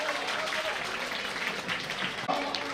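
Audience applause at an honoring ceremony where a guest is draped with a shawl, steady continuous clapping from a crowd filling the whole moment with no break.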